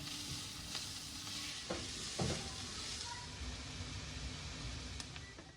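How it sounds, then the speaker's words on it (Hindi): Tomatoes cook in a pan for an Afghani omelette, giving a soft, continuous sizzle with a few light stirring clicks and no talking. "मैंने जो टमाटर डाल दिए हैं, अब थोड़ी देर पकाऊंगी"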